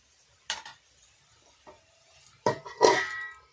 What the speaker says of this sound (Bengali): ঢাকনা খুলে আবারও দেখে নিচ্ছি